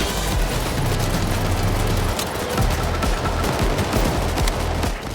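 A deployed sentry gun in Payday 3 fires rapidly during a heist shootout, a loud, sustained stream of overlapping shots mixed with other gunfire and action noise.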